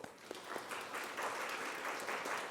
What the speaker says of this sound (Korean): 우리 잠깐 일어나 주시면 박수로 환영해 주시겠습니다.